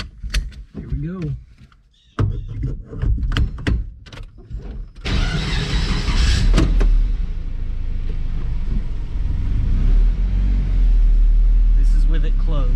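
A K-swapped sleeper car gives a few door clunks and rattles, then its engine roars steadily and loudly while driving and pulling through the gears.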